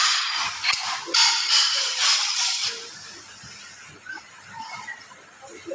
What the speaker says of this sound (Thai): เป็ดคุยกับคิวสิ